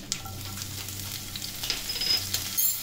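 Green chillies, cumin seeds and ajwain sizzle and crackle in hot oil in a frying pan, a steady close frying hiss with small pops and stirring, no voices.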